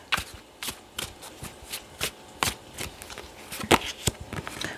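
A deck of tarot message cards being shuffled by hand, a steady run of soft papery riffles and taps, close and fairly quiet, with no talking.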